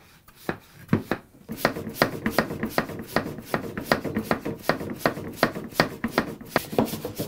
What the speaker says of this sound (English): the pipe for the oil sucker just goes straight into the sump and then start pumping